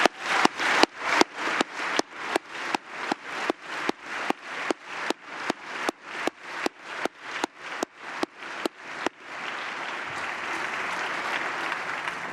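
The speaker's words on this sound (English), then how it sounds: "If you could please join me in thanking her with a loud round of applause." An audience at a post-budget address applauds loudly, first in regular pulsing surges of clapping, then in a dense, steady wash of hands near the end.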